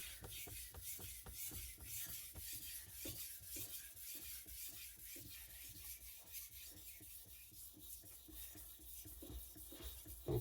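Repeated rhythmic rasping strokes of a Tojiro Japanese knife being sharpened on whetstones, steady and close, running throughout with no talk.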